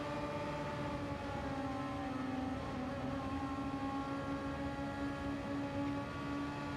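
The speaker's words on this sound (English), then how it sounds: "Let's listen to the engine as they head through one of the most famous corners in motorsport." A racing car engine in a sim racing game at Spa-Francorchamps holds a steady, sustained tonal whine that bends slightly in pitch, constant and unbroken with no voices.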